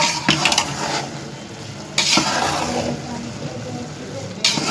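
Chicken and potato pulao being stirred in a pot, with scraping spoon strokes and bursts of sizzle recurring every couple of seconds, close and moderately loud.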